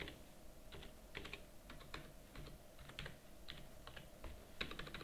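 Fingers tap out bursts of keystrokes on a computer keyboard while entering bank account details in accounting software, the quiet clicks coming in irregular clusters with short pauses between them and no talking.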